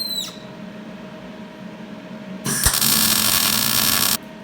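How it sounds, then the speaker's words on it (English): A MIG welder joins a handle onto a steel plate with a harsh crackling buzz that starts suddenly, holds steady for under two seconds up close, then cuts off, following a quieter stretch. "now I'm going to weld the handle onto the piece of plate using a MIG welder"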